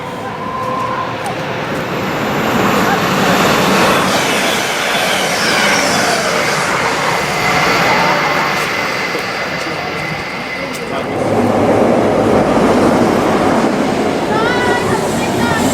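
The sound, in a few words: Grand Central train service to Bradford at station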